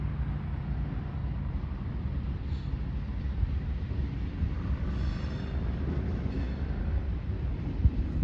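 An Arkansas & Missouri Railroad passenger train rolls into a siding in the small town of Chester, Arkansas, in the Clear Creek Valley, giving a steady low rumble of wheels and engine that stays at a moderate distance throughout.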